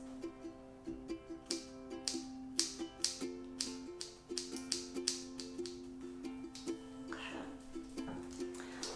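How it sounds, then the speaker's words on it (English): Scissors cut bangs in small sections at close range, making crisp snips in quick, irregular clusters over a faint steady tone, with occasional soft rustling of hair. "So I just cut it off in little sections."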